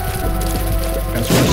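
A bomb detonates in The Binding of Isaac, a short loud crunching burst that swells into a heavy low boom near the end, set against a dense bed of game music.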